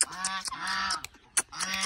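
Chickens squawk and cackle in loud, close, repeated honking bursts with short gaps as they are chased and caught, the calls running almost without pause.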